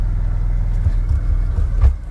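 An old car engine running nearby, a loud low rumbling idle with a few uneven throbs and pulses, steady and close.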